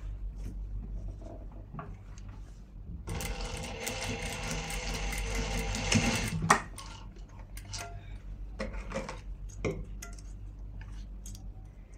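A sewing machine stitches a folded seam beside the zip of a nighty, running in a steady, rapid clatter for about three seconds mid-clip, with lighter handling taps and ticks before and after.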